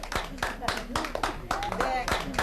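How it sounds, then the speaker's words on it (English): Children clap in a fast, irregular patter in a classroom in Pakistan's Swat Valley, with voices calling out over the close, lively applause. "Everybody clap."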